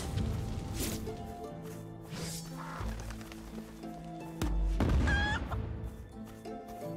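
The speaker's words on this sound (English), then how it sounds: "Fuck you, chicken." Chickens cluck and squawk in the video game The Incredible Adventures of Van Helsing, over layered game music, with occasional hits and crashes.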